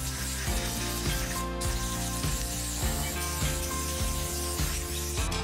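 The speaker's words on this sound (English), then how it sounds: "I'm just going to use some compressed air to dry out the exterior of the carburetor" Compressed air blasts over the outside of a Yamaha YZ125 motorcycle carburetor, loud hissing bursts repeating in a steady rhythm over a droning motor hum.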